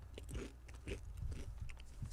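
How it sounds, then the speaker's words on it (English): Food is bitten and chewed with crisp crunches close to the mic, several bites in a loose rhythm and no talk over them. "Guys, you got to hear this crunch."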